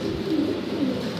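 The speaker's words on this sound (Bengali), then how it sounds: "মাশাআল্লাহ কোয়ালিটির এক জোড়া কবুতর" Pigeons in a farm loft, a big-sized fancy pair, coo softly and continuously, low rounded calls rising and falling over a close, steady murmur of other birds.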